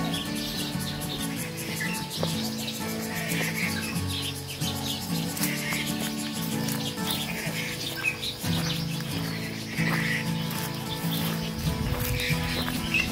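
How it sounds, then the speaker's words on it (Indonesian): Many birds chirp and call over one another in a busy, continuous chorus in the Maolin mountains of Taiwan, with overlapping tweets throughout and no voices. "Di sini terdengar ya, ramai sekali dengan kicauan burung yang bersahutan."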